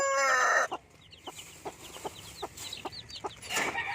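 Eight-day-old free-range chicks cheep close by in quick, irregular peeps. A louder clucking burst opens the scene and another comes near the end.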